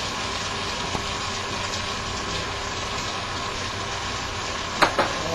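Spaghetti frying and crisping in a pan makes a steady, even sizzle throughout, with a couple of brief sharp clinks near the end.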